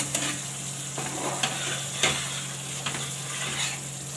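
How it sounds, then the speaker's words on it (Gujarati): Semolina mixture roasts in a pan over a low flame, giving a steady soft sizzle with periodic scraping strokes of a spatula stirring through it, close and alone without talk. "હવે આપણે આને ધીમે ગેસે સળવા દેવાનું છે."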